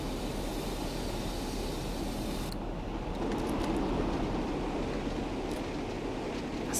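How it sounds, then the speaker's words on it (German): Passenger wagons hauled by a Class 45 diesel in Train Sim World rattle steadily past from an exterior viewpoint, a dense continuous rumble with rhythmic clatter that swells slightly midway through. "Lassen wir unseren Zug vorbeisausen. Ich finde aber auch den Sound der Wagen schön, diesen Außensound, dieses Klappern."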